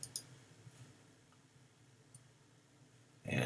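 A single mouse click on a Publish button, with a couple of faint clicks early on, a quiet room hush in between and a brief louder burst at the end.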